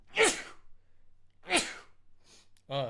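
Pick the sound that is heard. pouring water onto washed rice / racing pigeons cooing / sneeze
sneeze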